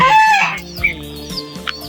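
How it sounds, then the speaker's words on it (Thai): Chickens and roosters in a farm coop in Thailand during the cold season cluck and call in a loud, close burst, then scattered softer clucks and short squawks continue, with no talking. "ฝั่งนี้จะเป็นข้อไก่นะครับ ผม"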